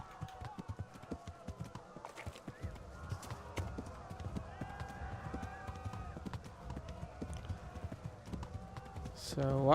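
Rhythmic clip-clop of horse hooves trotting steadily in the video game Kingdom Come: Deliverance, moderately close, with other game sounds faintly layered beneath.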